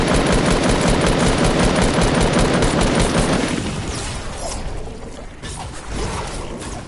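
Rapid automatic weapon fire in Fortnite, a loud, dense, continuous rattle of shots for several seconds that then thins into scattered clicks and mechanical clatter, close and in the foreground.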